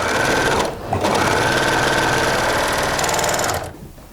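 An industrial sewing machine stitches in a community sewing workshop in Paris, running loud and steady with a dense rapid whirr, breaking off briefly near the start, then stopping just before the end.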